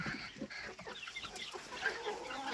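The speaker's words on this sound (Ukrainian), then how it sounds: "Півничок." A young rooster among chickens in an outdoor poultry enclosure gives soft, irregular clucks at close range over a quiet rural background, with no talk.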